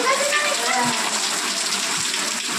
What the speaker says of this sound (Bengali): দেখো মুষলধারে কিন্তু বৃষ্টি হচ্ছে